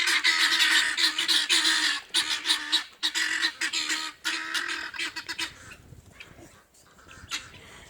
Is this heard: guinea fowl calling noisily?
yes